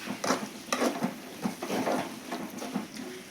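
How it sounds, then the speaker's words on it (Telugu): Eggplant pieces tossed into hot oil in a pan for a Telugu-style curry, giving a steady patter and clatter of pieces hitting the pan over a low sizzle, close and moderately loud. "ఇందులో నేను ఇప్పుడు వంకాయ ముక్కలు వేస్తున్నాను."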